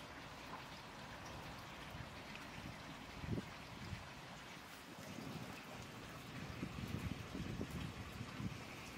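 Water from a small garden pond's waterfall stream runs and splashes in a steady broadband rush, low in level, with faint gusts of wind and no talk.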